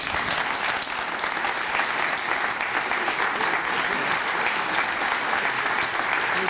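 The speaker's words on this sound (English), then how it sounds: "Please join me in applauding this most eminent historian." Steady, sustained audience applause honoring an eminent historian receiving an award, a dense wash of many hands clapping evenly throughout with no voices above it.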